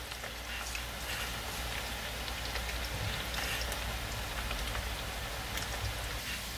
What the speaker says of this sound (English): So you keep frying it.